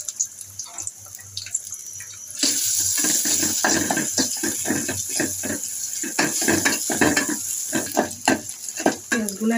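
Onions drop into hot oil for egg curry and burst into a loud sizzle after a quiet start, then keep frying with repeated stirring scrapes and crackles close by.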